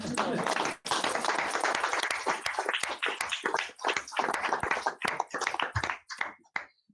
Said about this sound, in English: I think that first deserves a round of applause.